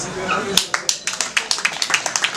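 Audience applause at a French half-marathon championship ceremony in Trélazé, greeting a deputy mayor: fairly sparse, irregular hand claps that begin abruptly and continue as a steady patter, with some talk underneath.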